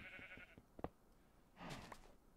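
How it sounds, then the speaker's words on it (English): Sheep bleat in the Minecraft modpack FoolCraft, with a couple of short, fairly close bleats alongside game sound effects and a soft burst of tones near the end. "We're going to leave the sheep over here."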